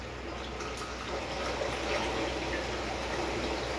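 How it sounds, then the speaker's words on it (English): Miracle Mud, a mineral substrate that looks like sand, is poured into a drained aquarium sump, producing a steady soft granular hiss and trickle, close and continuous throughout. "I'm going to start pouring in my Miracle Mud."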